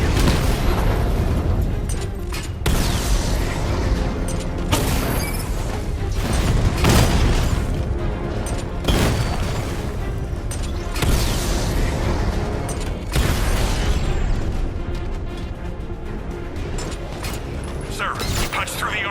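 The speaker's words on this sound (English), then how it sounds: "Your 60mm cannon will penetrate these heavily armored units" Heavy 60mm tank cannon blasts in the video game Batman: Arkham Knight boom repeatedly every couple of seconds, loud and close, amid rumbling mechanical battle noise and occasional voices.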